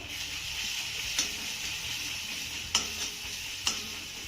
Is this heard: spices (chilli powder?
yes